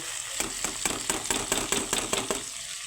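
Mitul cooking in a pan with turmeric, chili, cumin and coriander powders and salt, stirred with a quick regular series of scraping strokes over a steady sizzle.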